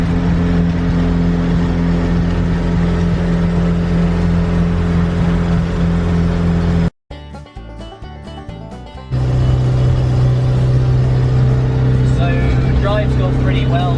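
Loud, droning engine of a vintage van with a blowing exhaust pipe, heard from inside on the road as a constant deafening rumble with a brief drop midway before the roar returns.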